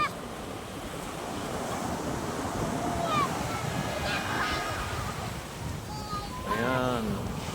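Strong wind buffets the microphone at a beach, with surf rolling underneath and children's voices calling out intermittently over the steady roar.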